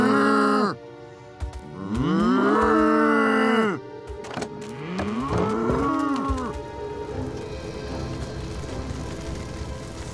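Two long, loud cow moos in quick succession, followed by softer lowing calls over a noisy outdoor background.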